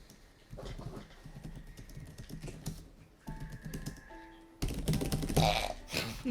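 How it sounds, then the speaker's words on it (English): Rapid clicking of keys on a computer keyboard, quiet and close, tapping in irregular bursts under a low musical background that swells louder toward the end. "Clickety clackety keyboard."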